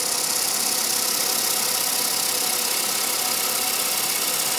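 A wood lathe spins a turned bowl against a Hurricane sanding pad, giving a steady, loud broadband whir and hiss that holds even throughout with no talking.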